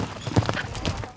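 Horse hooves clopping during team penning with fast riding in the Arizona desert, a short burst of rhythmic hoofbeats on dirt heard close under light background noise.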